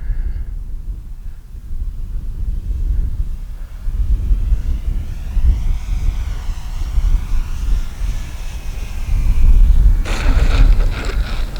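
An HSDJets RC model Cessna 182 comes in to land partly on grass, its electric motor whining and shifting pitch at a distance over heavy gusty wind rumble, with a louder burst near the end.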